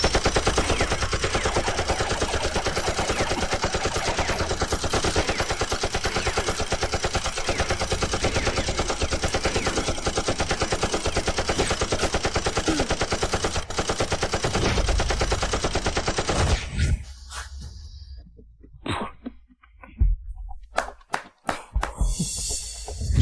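Machine guns fire in a relentless, loud, dense stream during an airplane hijacking scene for about seventeen seconds, then break into a few scattered short bursts.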